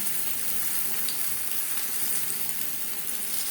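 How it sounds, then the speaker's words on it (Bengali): Boiled potato pieces, halved and quartered, fry in a pan with salt and turmeric for an alu chicken curry, giving a steady, close, even sizzle with no voices. "লবণ, হলুদের গুঁড়ো, লবণ হলুদ দিয়ে আলু ভেজে নেব।"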